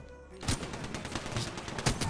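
Rapid automatic fire from the Devotion energy machine gun in Apex Legends, a dense, loud stream of closely spaced shots that starts abruptly and continues unbroken, with no talking.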